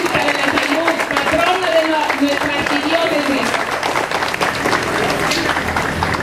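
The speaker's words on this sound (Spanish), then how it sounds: "Le damos un aplauso a la Virgencita de la Salud, patrona de nuestra arquidiócesis." A crowd applauds and cheers for an image of the Virgin of Health, patroness of the archdiocese, over a loud voice speaking through amplification, clapping sustained for several seconds.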